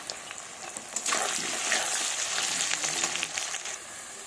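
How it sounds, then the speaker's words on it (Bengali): Sliced potatoes with a little turmeric and salt fry in hot oil for mutton curry, giving a steady, close crackling sizzle that builds after a quiet start and keeps going with no talk. "দিয়ে আলুটাকে লাল লাল করে ভেজে নেব।"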